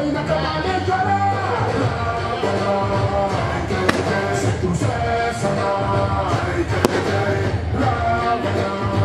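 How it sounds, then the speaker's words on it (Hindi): Fireworks set off at a Dussehra festival celebration crackle and pop over a dense, noisy crowd backdrop, with a couple of sharp, loud bangs standing out among steady background commotion. "शिव कुमार जी द्वारा आतिशबाजी चलाई जा रही है"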